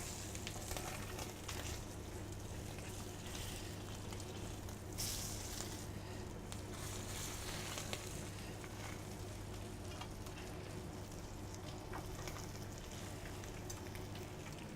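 Garlic-seasoned food cooks over low heat in a restaurant pan, giving a soft, continuous sizzle and crackle that stays fairly quiet and steady throughout, with no talking.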